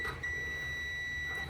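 A single steady electronic beep from a Samsung dryer that won't heat, high and pure, holding for over a second after a quick start.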